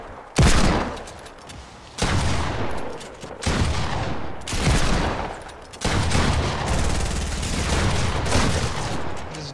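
Fortnite gunfire in several loud separate bursts, each a sharp crack followed by a rattling volley, then a longer sustained stretch of shooting near the end.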